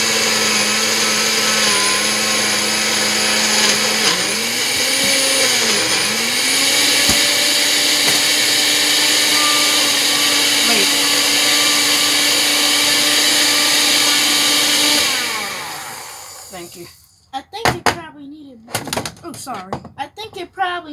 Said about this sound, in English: And then we're gonna put it in the blender.